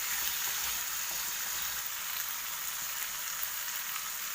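Fish stir-fries in a hot pan, sizzling in a dense, steady hiss with faint scraping of stirring, close and continuous, no voices.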